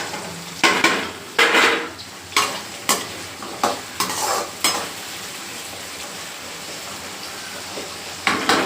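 Garlic and shallots sautéing in oil, with a steady sizzle and repeated loud scraping stirs of a spatula against the pan in uneven bursts, close up and without talk.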